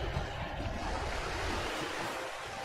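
Water in the video game Ōkami HD gives a steady, rushing wash of surf-like noise that stays even and fairly loud for the whole stretch, with no voices.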